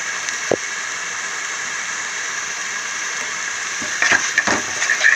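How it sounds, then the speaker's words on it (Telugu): Onions and masala paste fry for a mutton curry, giving a steady, even sizzle with a few sharper stirring knocks toward the end and no voices. "ఇది కూడా ఫ్రై చేస్తాను బాగా"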